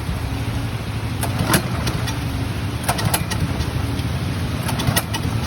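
A motorbike engine struggling after rainwater got into it during a storm runs unevenly: a low chugging rumble broken by several sharp clicks and knocks that recur every second or so, close and moderately loud.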